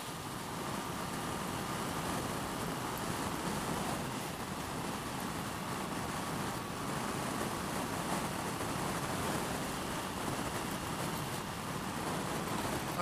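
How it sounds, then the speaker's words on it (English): Strong coastal wind on the NC500 route, a dense, steady roar of broadband noise buffeting throughout, loud and unbroken with no voices. "That wind is a biatch."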